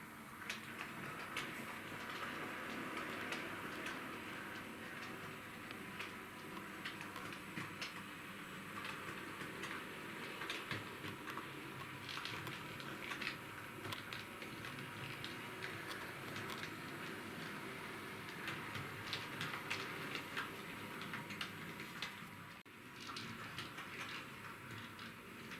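Bachmann Class 40 diesel model locomotive, number D395 (30-090), running along a model railway track, giving a steady, quiet whirring rumble with faint clicks throughout and no talking.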